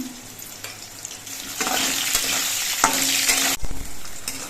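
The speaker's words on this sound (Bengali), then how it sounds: "এবার আলুগুলো কিছুক্ষণ ভেজে নিতে হবে" Potatoes fry in hot oil in a pan, a close sizzle that swells as they are stirred, with scraping strokes and a few sharp knocks against the pan.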